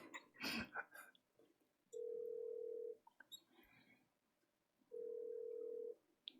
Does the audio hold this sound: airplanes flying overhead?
no